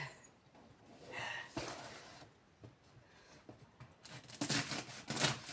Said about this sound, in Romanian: Auzi ce faină, ce crocante sfoile.